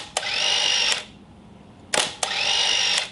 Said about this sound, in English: it does make an interesting sound with the motor drive. It's not exactly stealthy.